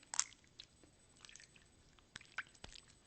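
Wet Play-Doh slime is stretched and pulled apart, giving faint, close squishy, watery clicks and a few sharp little pops over near silence.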